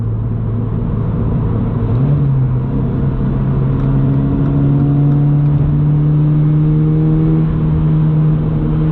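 A 2022 Subaru BRZ with a 2.4-liter naturally aspirated engine and an aftermarket catback exhaust accelerates, its note climbing in a steady rising drone with a brief shift dip early on, loud and close with no talking.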